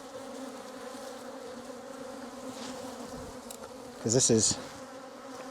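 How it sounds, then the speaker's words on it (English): Honey bees from a hive swarm around a beekeeper in an agitated, dense buzz that hums continuously close by, with a brief spoken phrase near the end. "these bees are just getting so upset with me now"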